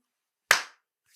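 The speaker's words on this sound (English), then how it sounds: "you're going to lead them in a countdown and clap, like this." A single sharp hand clap, close and crisp, cuts through silence to sync a podcast recording, decaying quickly into quiet.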